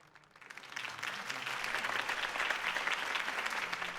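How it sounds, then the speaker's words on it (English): Steady applause from a sizable crowd in the video game Batman: The Telltale Series, swelling in over the first second and then holding at a loud, dense clatter of clapping. "If only Mr. Wayne, my campaign's largest backer, could have heard that applause"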